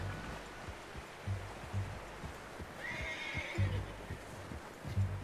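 In the Red Dead Redemption 2 video game, a horse whinnies in a rising squeal amid soft clip-clop hoofbeats and gentle ambient outdoor sound, faint and fairly quiet overall.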